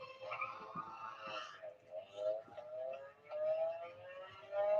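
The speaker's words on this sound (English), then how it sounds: "What is that dog?" A dog in the Umamusume horse-racing video game gives several short, high yips and whimpers spread across the stretch, heard over tonal game sounds at low volume.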